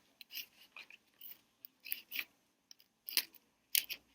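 Scissors snipping paper while cutting out a paper snowflake, a string of quick, close, crisp cuts in an irregular rhythm with short pauses, quiet and with no one talking.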